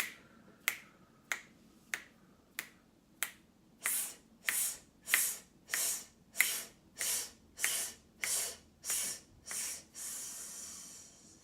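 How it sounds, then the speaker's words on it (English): Repeated sharp 's' hissing exhales during a vocal warmup, starting as short clipped bursts and growing into longer pulsed hisses before one final sustained hiss, close and steady with no talking. "we're going to engage our abdominal wall with a s, s, s, s, s, s at the end of the breath"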